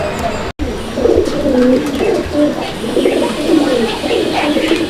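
Pigeon cooing in a cage at a fancy pigeon sale, repeated low throaty coos in a steady rhythm, close and fairly loud against a faint background murmur.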